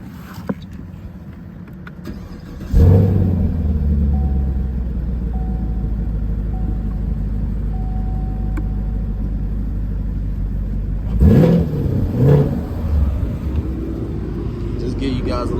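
A Chevrolet Camaro LT1's V8 engine cranks and fires up, settling into a deep steady idle, then revs briefly a couple of times up close.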